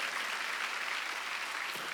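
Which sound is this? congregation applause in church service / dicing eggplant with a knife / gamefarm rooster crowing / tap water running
congregation applause in church service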